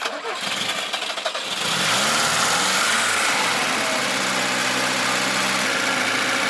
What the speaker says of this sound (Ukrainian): вставив і воно моментально заводиться